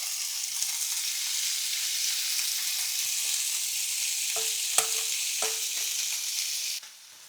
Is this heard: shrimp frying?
yes